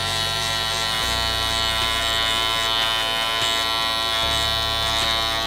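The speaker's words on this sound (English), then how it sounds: "hopefully the clipper isn't sounding super loud" Electric hair clipper cutting hair during a home haircut, a loud, steady close-up buzz with brief shifts in tone as the blades move through the hair.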